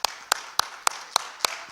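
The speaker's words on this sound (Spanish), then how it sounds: "¿Le puede dar un aplauso, Señor?" Hand claps at a Spanish-language church service, six sharp, evenly spaced claps in a steady rhythm, moderately close, with no talking.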